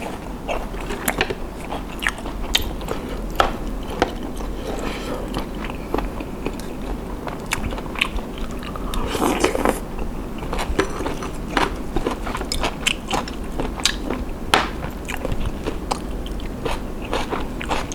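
Grilled squid is chewed close up in steady, repeated wet bites with crisp crunchy snaps, and no one speaks.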